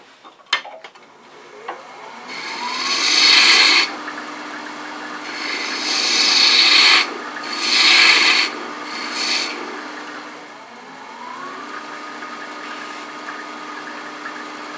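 A wood lathe turning a globe ornament, with a cutting tool shaving the spinning wood in several rasping, whirring passes of a few seconds each over a steady motor hum, close and clear, no talking.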